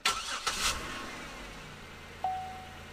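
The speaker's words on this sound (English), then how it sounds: "Start the car." A car engine cranks briefly at the start and catches, then settles into a low, steady idle nearby, with a short tone near the end.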